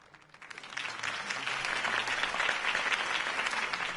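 Crowd applause in Batman: The Telltale Series following Harvey Dent's campaign speech, a dense wash of many hands clapping that swells after a quiet start and holds steady and loud throughout.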